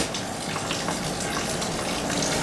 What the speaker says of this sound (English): get that cold water running through these